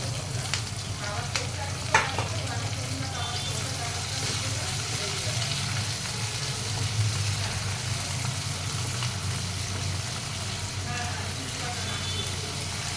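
Chopped onion and tomato frying in a pan make a continuous crackling sizzle, with a few sharp stirring clicks near the start and a steady low hum underneath.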